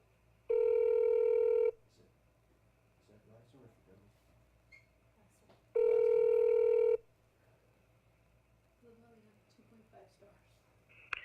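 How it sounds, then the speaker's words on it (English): A phone call being placed, with two long loud ringback tones separated by a quiet gap, each lasting about a second, heard close through the handset with faint background noise and no talk. "Okay, so I'm calling Blackstone right now."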